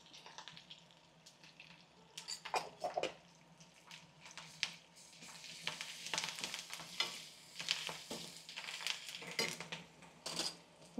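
Onions, curry leaves and ginger-garlic paste frying in a pan for a Telugu pappu charu, giving a steady close sizzle broken by scraping stirs and clatter from the pan.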